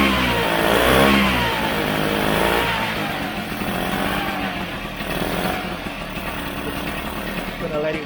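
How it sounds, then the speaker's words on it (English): A Vespa GS scooter engine, just kick-started, idles and warms up close by with a buzzing, uneven putter and slight revs, while someone talks over it. "Just gonna let it warm up a little bit."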